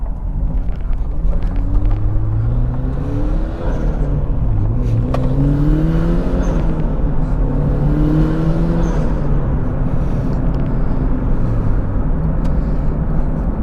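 A 300 whp turbocharged Mazda Miata accelerates hard up close, its engine note climbing steadily through repeated rising sweeps with loud, continuous rumble and no voices.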